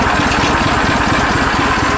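A Sears Suburban garden tractor engine, carburetor freshly fitted with new O-rings, runs at a steady loud idle with an even low chugging pulse throughout, close by and alone.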